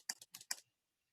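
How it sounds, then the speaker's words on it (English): Brief burst of typing on a computer keyboard at a command line, four quick clustered clicks then silence, close and quiet. "I'm typing in a command line."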